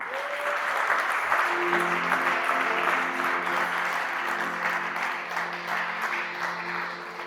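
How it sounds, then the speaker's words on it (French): A church congregation at a Sunday service applauds and cheers, with dense, steady clapping that holds for several seconds alongside a faint sustained tone. "Est-ce qu'on peut apprécier le Seigneur par nos acclamations?"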